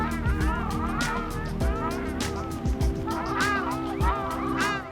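Migratory wild ducks call in an overlapping chorus of repeated honking, nasal cries, loud and close, with hardly any pause between them.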